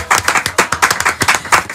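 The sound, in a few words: audience applause for an Ivorian actor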